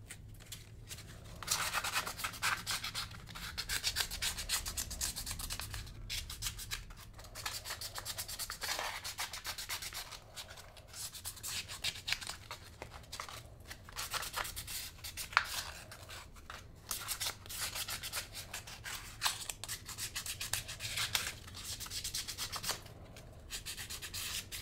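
Continuous scratchy rubbing of sandpaper against a plastic Corsair fan ring, steady back-and-forth strokes with brief breaks, close up over a low background hum.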